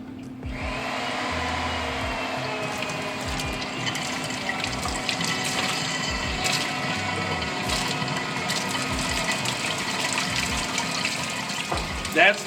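A pump steadily draws water from a clogged electric water heater and pushes it out through a hose, a continuous whirring and rushing flow with a low hum, moderately loud and unbroken throughout.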